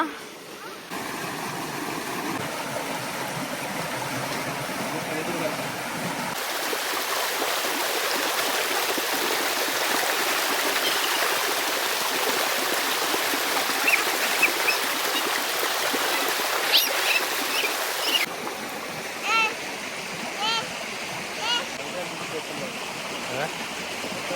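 A flowing stream keeps up a steady rushing wash beside a spot where prawns are being fried, with the level and tone shifting as the position changes and a few brief knocks near the end.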